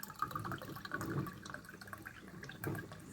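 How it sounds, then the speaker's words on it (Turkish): A glass of grape vinegar is poured into a jar of mixed chard-stalk and bean pickles, a faint, close liquid trickle and splash lasting about three seconds. "Şöyle bir su bardağı da üzüm sirkesi dökeceğim"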